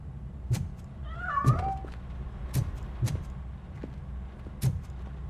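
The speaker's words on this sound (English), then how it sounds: "That cat must be hiding inside." A single drawn-out cat meow in the video game RoboCop: Rogue City rises and falls, surrounded by a few dull knocks and thumps over a low background hum.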